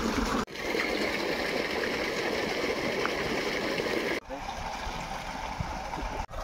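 Water gushes and splashes continuously from a tanker truck outlet, a steady broadband rushing with brief breaks, heard from close by.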